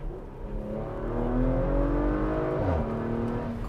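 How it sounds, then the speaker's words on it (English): 2022 Porsche Macan GTS in normal mode at full throttle, engine climbing loudly through the revs, a gear change near the end briefly dropping the pitch before it pulls again, heard close and alone. "I'm just going to floor it."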